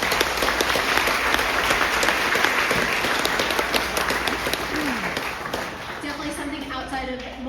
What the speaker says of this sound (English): we need to give them an extra round of applause for stepping up and being brave